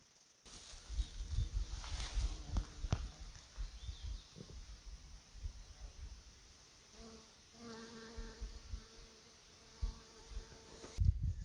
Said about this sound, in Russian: Сегодня даже и пчелы вылетели на фацелию.